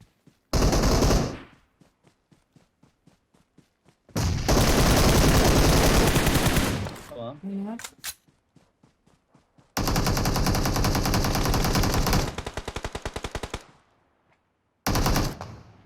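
Machine-gun fire in a LAN video game session comes in long, loud sustained bursts with short single shots in the gaps between them, and one brief whooshing effect midway.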